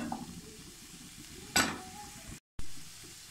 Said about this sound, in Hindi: एक टमाटर डाल दें बीच निकाल के और इनको 1 मिनट के लिए फ्राई कर लें।